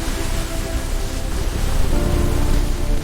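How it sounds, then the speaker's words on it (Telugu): Torrential rain lashes down during a windy storm, a loud, unbroken roar of water throughout with no speech over it. "వాన కుండపోతగా కురుస్తుంది"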